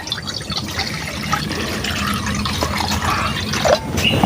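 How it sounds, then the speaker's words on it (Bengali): Water poured into a karai cooking pan while boiling lentils for a dal dish, a steady close splashing and trickling stream that continues throughout. "কড়ার মধ্যে এখন জল দিয়ে দিচ্ছি।"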